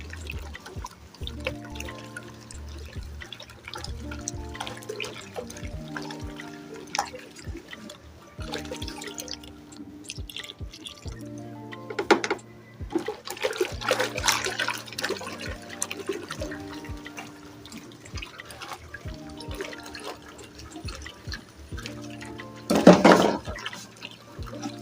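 Liquid preservative is poured into a large batch of homemade hair conditioner, a trickling, dripping pour with bubbly splashes lasting around twenty-five seconds, close and moderately quiet, swelling briefly louder at a few moments.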